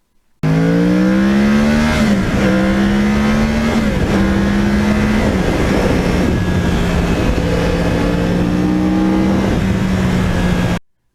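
Yamaha R1 crossplane motorcycle accelerating hard through the gears, its loud close engine note climbing in pitch then dropping at each shift, repeated several times over a continuous roar.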